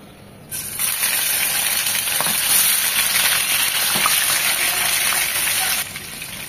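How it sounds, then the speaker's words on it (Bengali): Rohu fish frying in soybean oil, a steady loud sizzle and hiss that swells after a quiet start and stays dense and continuous with faint crackles, then eases slightly at the end. "রুই মাছগুলো ভাজার জন্য দিয়ে দিচ্ছি সয়াবিন তেল"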